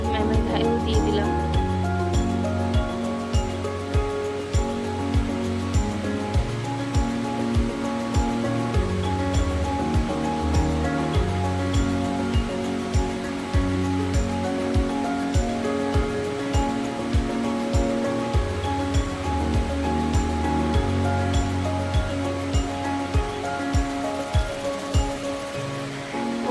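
River water surges and washes up onto temple steps, a steady rushing wash with repeated splashing pulses, while people talk over it.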